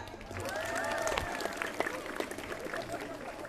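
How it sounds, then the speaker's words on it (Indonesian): Schoolchildren applaud their teachers at a school event, a burst of scattered clapping that swells and then thins, with voices from the crowd mixed in. "Mari kita tepuk tangan untuk guru-guru kita."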